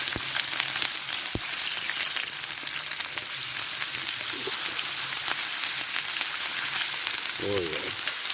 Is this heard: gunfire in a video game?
no